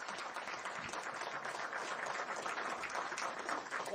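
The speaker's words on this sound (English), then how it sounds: "so let's applaud them all" Audience applause at a Prime Minister's visit to Lévis, Quebec, steady dense clapping from a crowd filling the whole moment without pause.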